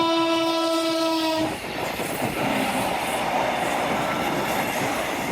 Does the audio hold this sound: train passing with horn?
yes